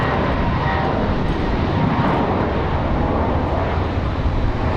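A jet in America West livery departing from Raleigh-Durham gives a steady, heavy engine roar that fills the whole stretch, loud and unbroken, with no voices.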